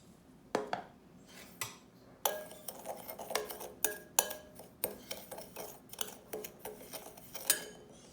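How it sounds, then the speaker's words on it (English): A spoon stirs sugar and powdered cinnamon together in a bowl, giving a string of sharp, close clinks and scrapes against the dish that come in irregular bursts, with no talking. "in a bowl, I'm going to mix some sugar and powdered cinnamon"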